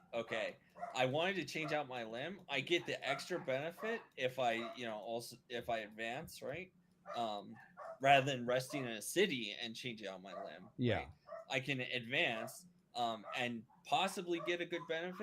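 A dog barks in the background during a tabletop game playtest, with a few short yips mixed under nearly continuous close conversation among players.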